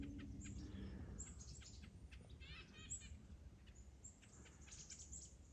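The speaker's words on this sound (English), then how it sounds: "There's like little birds just popping up everywhere. All sorts of cool birds, honestly." Small birds chirp and tweet repeatedly in short bursts over a low outdoor rumble, several calls overlapping at moderate distance.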